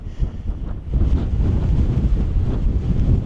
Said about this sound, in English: because it's really quite windy